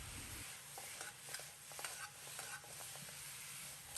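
Cooking wine splashed around the edge of a hot pan of braising pig trotters, bringing a steady sizzle with stirring scrapes and small clinks and no talk.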